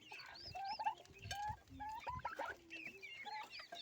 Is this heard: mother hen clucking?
yes